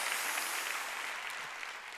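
A congregation at a church pastor ordination service applauds, a soft continuous wash of many hands clapping heard from a distance, steady and fairly quiet throughout.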